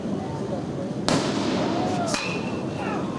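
A firework bursting during a Legion baseball game, a sharp sudden bang followed by a second crack and a faint whistling trail, heard from a distance over crowd ambience and ongoing commentary.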